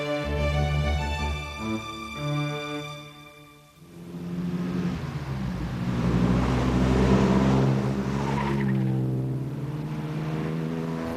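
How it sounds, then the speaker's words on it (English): A vintage Aston Martin race car's exhaust rises in a loud, harmonic-rich engine note, dips briefly as the revs drop, then swells again into a rough, roaring blare as the car passes close by. "People usually hear the car coming probably more than, because it has a rather lovely exhaust note."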